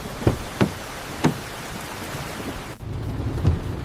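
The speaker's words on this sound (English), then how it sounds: "The storm outside is still very heavy." A heavy thunderstorm with steady rain falling outside, broken by several sharp thunder cracks near the start and another burst toward the end, with no voices.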